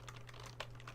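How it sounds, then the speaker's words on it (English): Quick, light keystrokes on a computer keyboard patter in a fast run over a low steady electrical hum, quiet and close, with no voices. "I'm going to type in"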